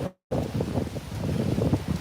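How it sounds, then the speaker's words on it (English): Steady roar of wind buffeting a microphone, loud and continuous after a brief dropout at the start. "It is so fucking windy out here."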